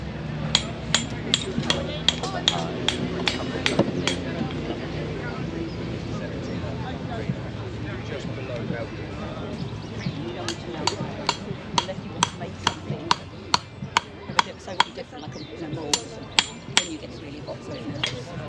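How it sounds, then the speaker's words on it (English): A blacksmith strikes metal with a hammer while fire welding at Arundel Castle. The blows ring out in sharp, evenly paced bursts, separated by a pause, under a steady background murmur of crowd talk. "what you use above that heat to put two pieces of metal together. It's called fire welding"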